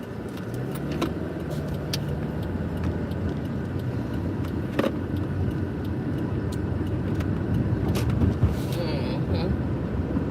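A car drives on a road in Dallas, Texas toward Plano, giving a steady loud interior road rumble and tyre roar throughout with occasional small clicks and rattles.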